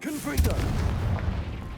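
A Confringo fire spell in Hogwarts Legacy goes off as a loud booming blast shortly after a brief spoken word, followed by a rumbling, crackling tail that fades over about a second.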